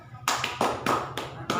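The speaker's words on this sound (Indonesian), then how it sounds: "Gimana tepuk mantulnya?" A classroom group claps a rhythmic clapping chant, four sharp, loud bursts of hands in quick succession, each ringing briefly over a low room hum.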